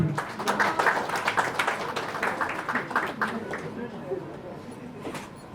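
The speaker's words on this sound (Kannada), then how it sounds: "ರಿಹಾನ್ ಅವರಿಗೆ ದಯವಿಟ್ಟು ಜೋರಾದ ಚಪ್ಪಾಳೆ" Applause from an audience at a Sandalwood film event honouring an actress, a dense crackle of clapping that holds steady then thins toward the end, with voices talking over it.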